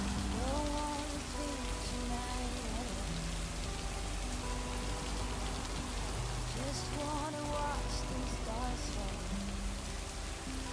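Steady rain in the video game Lake patters over everything, with faint tonal chirps and a low voice murmuring underneath at times.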